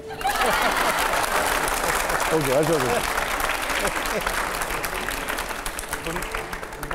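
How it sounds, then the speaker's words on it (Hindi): Loud, continuous applause from a studio audience during a Hindi television discussion show, with a voice speaking over the clapping partway through before the sound gradually eases toward the end. "आप ताली मारिए"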